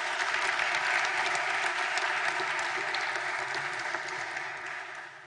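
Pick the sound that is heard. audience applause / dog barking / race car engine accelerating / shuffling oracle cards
audience applause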